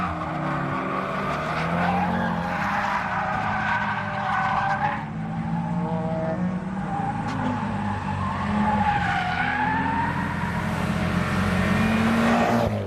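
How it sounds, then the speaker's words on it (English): A car drifts in Japan, with the driver linking slides using only the side brake and weight transfer; tires squeal and skid loudly and continuously while the engine revs rise and fall, close and prominent. "the driver could link drifts using just the side brake and shifting the weight around"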